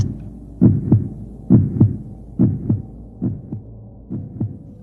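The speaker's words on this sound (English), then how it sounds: "I know this sound. It's the old man's heart." A deep heartbeat thumps in paired lub-dub beats, five pairs at a steady slow pace, close and muffled over a low hum.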